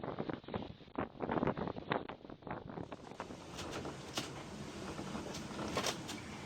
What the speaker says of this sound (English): now we get some unpredicted strong winds already on day 4